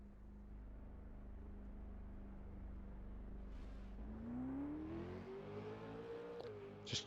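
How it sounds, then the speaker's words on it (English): A car driving on track in a racing game, its engine a steady drone and then revving up in pitch as it accelerates, moderately quiet with a brief click at the end and no voices. "Just check everybody can actually hear the cars on track."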